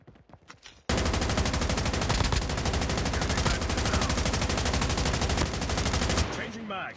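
An M4 LMG with a 100-round magazine fires in a video game. The burst is long, loud and unbroken, with dense rapid automatic fire running for about five seconds after a brief quiet start, then cutting off.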